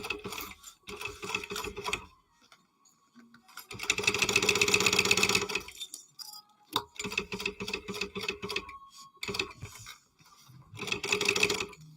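A sewing machine bastes fabric pieces together in close, steady runs of rapid stitching, some short and some several seconds long, separated by brief pauses.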